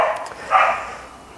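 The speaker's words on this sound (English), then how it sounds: "That's a dog fight." Dogs in an outdoor dog fight give a couple of short, distant barks and yips, fairly faint against a quiet background.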